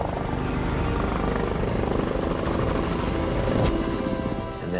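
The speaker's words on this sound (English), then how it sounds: "I heard the helicopters come back. It was so loud, I knew they were so close" Helicopters flying close overhead above a ridge in the Australian outback, a loud, continuous rotor thudding and engine roar filling the air without pause.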